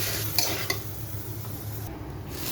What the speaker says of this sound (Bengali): পোলাও চালটা দিয়ে দিলাম এবং ভালো করে এটাকে আমি একটু ভেজে নেব